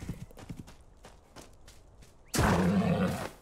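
A horse in the Ylands video game gives a loud, harsh neigh that bursts in after a stretch of soft clip-clop hoofbeats and lasts about a second, standing alone with no talk over it.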